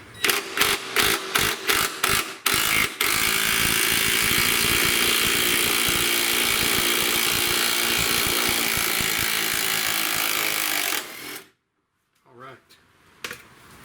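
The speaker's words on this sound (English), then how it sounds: "And I do like this impact. It's a cordless impact." A cordless impact wrench with a deep impact socket hammers at a bolt on a 2003-2008 Honda Pilot rear shock, starting with several short bursts and then running in one long loud rattling burst before stopping, followed by brief faint clatter.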